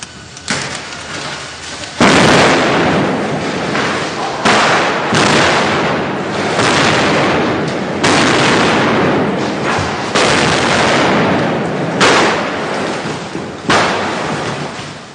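A series of loud, sharp special-effects explosion blasts on a film set, several sudden booms with rumbling decay between them, no talking.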